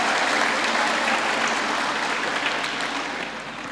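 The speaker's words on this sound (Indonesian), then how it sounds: "Tepuk tangan dong untuk kedua narasumber kita." Audience applause for two speakers at a live youth spiritual class session, a dense even wash of clapping that holds steady and fades slightly near the end, with no talking.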